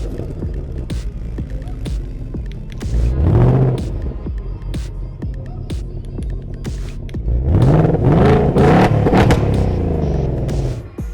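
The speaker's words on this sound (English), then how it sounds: "you can rev the car remotely from the key fob" A 2024 Ford Mustang's engine idles with a low throb, then revs up twice in loud, rising surges before settling back to a rumbling idle, revved remotely from the key fob.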